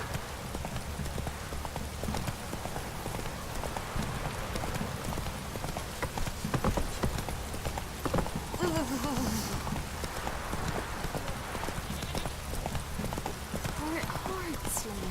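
Horse hooves clip-clop at a steady galloping rhythm in The Witcher 3, close and continuous over a bed of rain-like ambience, with occasional voice sounds mixed in.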